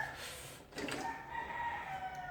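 A rooster crows once, faint and some distance off, somewhere in Manila city. The single drawn-out call falls in pitch toward its end over quiet background noise.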